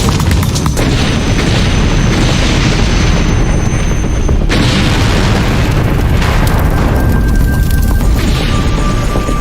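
Barrels of volatile chemicals exploding at a burning industrial site: a loud, continuous roaring blast that fills the whole stretch, with a sharp surge near the middle and no talking.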